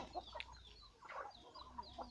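Farm chickens cluck in short, scattered bursts during evening feeding, faint and fairly close, with several birds calling one after another over a quiet background.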